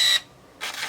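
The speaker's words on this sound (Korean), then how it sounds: "셔터를 누르고 있으면 이렇게 자동으로 찍혀요. 연속으로." A Nikon TW Zoom film camera fires in continuous burst mode, with two close mechanical shutter-and-film-advance bursts separated by a short pause.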